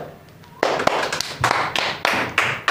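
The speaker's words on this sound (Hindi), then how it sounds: "ताली बजाओ बच्चा।" A few sharp, scattered hand claps from children in a classroom, celebrating a student's Class 10 result. They come as loud, uneven slaps close by, over a quiet room with faint voices.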